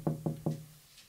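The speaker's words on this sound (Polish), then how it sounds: "usłyszała pukanie do okna" Three evenly spaced knocks on a window, fairly close and distinct, followed by quiet, set in a read-aloud children's story.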